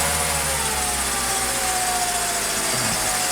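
A Mercedes M104 engine idles roughly because of a faulty, badly wired electronic throttle body, a loud, close, continuous mechanical drone whose pitch drifts slightly.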